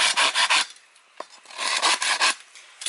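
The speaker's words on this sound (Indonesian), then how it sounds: "kebetulan juga bawa gergaji ya, jadi saya lubangin pakai gergaji" A hand saw cuts a hole through wood while a bushcraft shelter is built outdoors in Indonesia, giving rhythmic rasping strokes in two close bursts with a short pause between them, near and fairly loud, with no talk.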